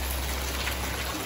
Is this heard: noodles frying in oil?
no